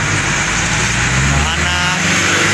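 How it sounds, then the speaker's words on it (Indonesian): Buses and other road traffic pass along a street, a steady loud engine rumble and drone heard close by from a moving vlogger, with someone talking over the continuous traffic noise. "Jadi sambil jalan kita nge-vlog, jadi suara-suara bis ya."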